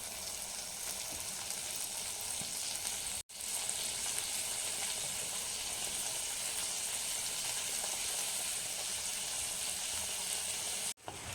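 Sliced onions and dried turkey berries fry in hot oil for a village-style sundakkai vathal kulambu, giving a steady, dense sizzle close by that runs unbroken apart from two brief dropouts.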